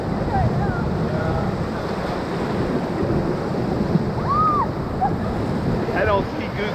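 Water rushing and splashing over a raft on the Ocoee River, a steady loud roar of whitewater with faint voices and a few brief shouts or whoops under it.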